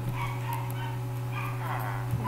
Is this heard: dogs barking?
yes